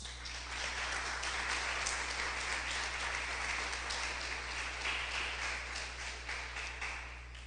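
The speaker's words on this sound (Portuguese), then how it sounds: "Nós podemos aplaudir a palavra, irmãos." A church congregation applauds together, a dense and sustained wash of clapping that holds steady throughout with no voice over it.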